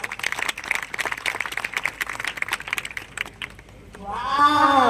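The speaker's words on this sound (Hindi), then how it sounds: "एक बार जोरदार तालियां हो जाएं।" Audience applause after a student performance at a school event, brisk clapping from a modest crowd lasting several seconds, thinning out before a voice speaks.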